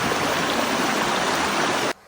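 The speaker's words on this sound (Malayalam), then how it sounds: "ഒഴുകിക്കൊണ്ടിരിക്കുന്ന ഒരു പുഴയാണ്" A river flows among shaded trees, giving a dense, even rushing of water close by that holds steady throughout and then cuts off abruptly at the end, with no talking.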